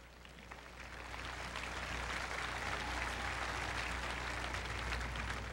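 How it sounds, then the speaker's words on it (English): Sustained audience applause fills a hall during a 1999 NFL Hall of Fame induction ceremony, a steady dense clatter of many hands that swells slightly and holds loud throughout, with no talk over it. "I'd like to applaud them for that."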